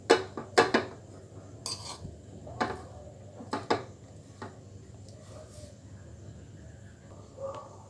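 Chopped vegetable momo filling with finely cut green chili being mixed in a bowl, giving a few sharp clinks and scrapes of utensil against the bowl early on, then quieter intermittent stirring.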